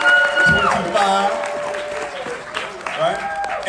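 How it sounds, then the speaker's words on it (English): A crowd applauds a brand new chairman with loud clapping mixed with cheers and shouting voices, with music-like tones and people talking over it throughout. "let's give him a round of applause"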